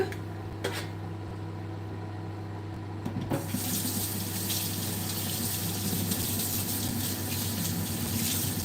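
Tap water running into a kitchen sink while something is washed off during home baking. A low hum comes first, then a steady, fairly loud stream gushes in about three seconds later and keeps flowing.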